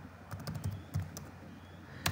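Soft, scattered keystrokes on a computer keyboard come in short irregular bursts and isolated clicks, quiet and close, with no talk over them.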